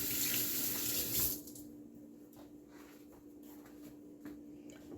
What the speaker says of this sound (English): I'm going to wash my hands so I can show you.